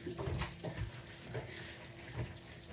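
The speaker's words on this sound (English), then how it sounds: "And I am going to wash my hands." Hands being washed under a running kitchen tap while cooking, a steady broadband rush of water with soft splashing surges, close and moderately loud, with no talk over it.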